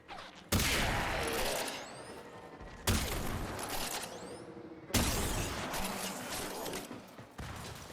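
Shotgun fire against an enemy in the Warframe video game: three loud, spaced blasts, each followed by a long ringing, mechanical decay, with a fourth burst starting at the end.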